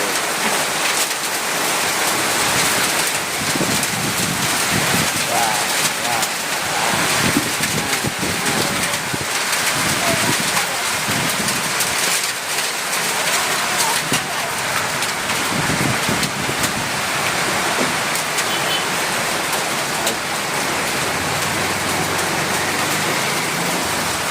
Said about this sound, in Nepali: हेर्नुहोस् है असिना झर्दैछ असिना।